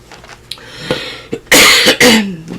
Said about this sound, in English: Pardon me, I still have a cough